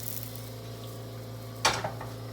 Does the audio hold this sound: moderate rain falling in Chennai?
no